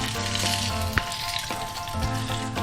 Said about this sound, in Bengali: এবার আর 1 টেবিল চামচ আমি সরষের তেল দিয়ে আলুটা ফ্রাই করে নেব